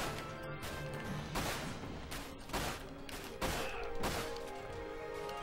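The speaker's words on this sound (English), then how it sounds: "They're shooting at stuff." Gunfire in the video game Dirge of Cerberus comes as several heavy blasts and crashing impacts spaced over a dense, noisy combat background with no voices.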